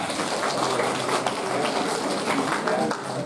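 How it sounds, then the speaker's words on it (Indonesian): Steady applause from a school orientation seminar audience fills the room, a dense continuous clatter of many hands with no gaps. "terima kasih, tepuk tangan buat kita semua"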